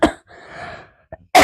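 A woman in a home kitchen coughs in short bursts: a sharp hack, a brief faint catch, then another abrupt loud burst at the end, close to the microphone, with no talk.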